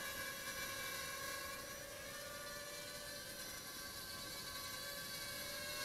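Holy Stone HS107G toy drone in flight, a steady high whining buzz from its small motors with faint rising and falling tones, continuous and fairly quiet, with no talk.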